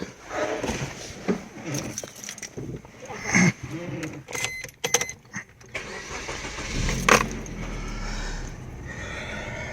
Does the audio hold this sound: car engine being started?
yes